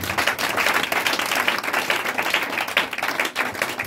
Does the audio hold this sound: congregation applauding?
yes